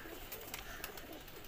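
Soft pigeon coos murmur through a steady, noisy background, with a few brief brighter bursts; no one speaks.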